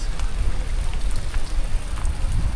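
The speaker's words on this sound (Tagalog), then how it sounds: "Tigil na ulan." Heavy rain pouring down during a typhoon by a river on a flooded street, a dense, continuous hiss of falling water with scattered drops striking surfaces close by.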